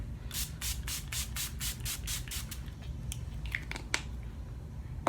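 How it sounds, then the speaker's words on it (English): A series of short, rapid bursts of makeup setting spray hissing in a quick rhythm, followed by a few scattered spritzes, close up with no talking. "is to take a finishing spray"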